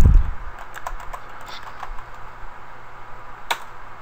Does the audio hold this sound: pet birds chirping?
no